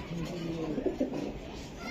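Racing pigeons kept in a loft, a pair of them, give a soft, low coo or two close by against a quiet background.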